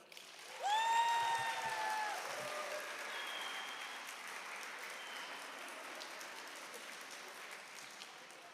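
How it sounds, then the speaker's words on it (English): An audience breaks into applause, a broad wash of clapping that rises quickly and then holds steady at moderate level, with a brief whistle or cheer near the start. "join me in a round of applause"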